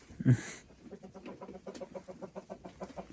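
A rooster gives a loud squawk up close, followed by a run of rhythmic clucking, in a snowy village in winter.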